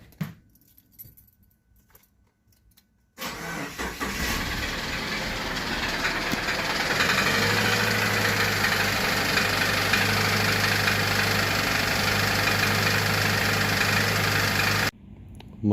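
Subaru Forester FB25 engine cranks and fires after a few seconds of quiet, then settles into a loud, steady idle with a continuous mechanical knock running throughout, heard close and alone.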